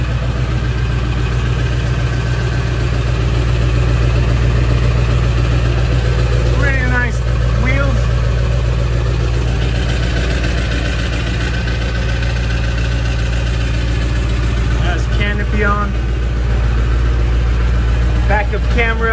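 A 2003 Ford F-250 with a 7.3L Power Stroke diesel, lifted and deleted, idles with a steady low rumble throughout, with faint brief sounds and possible speech now and then over it.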